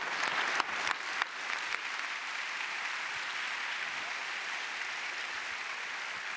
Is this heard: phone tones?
no